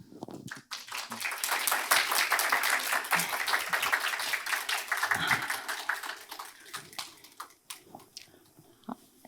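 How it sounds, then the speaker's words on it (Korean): Audience applause welcoming a session speaker at a Unity Wave 2022 game-development conference track, a dense burst of clapping that swells quickly, holds steady, then thins out into scattered claps near the end. "큰 박수로 맞이해 주시면 감사하겠습니다."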